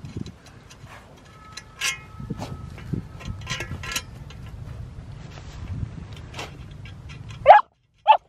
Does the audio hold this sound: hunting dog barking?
yes